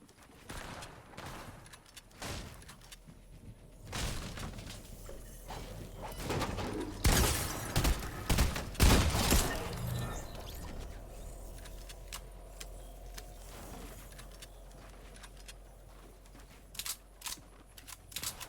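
Gold Tactical SMG fire in Fortnite comes in a few scattered rapid bursts, with the loudest cluster in the middle and quieter game sounds around it.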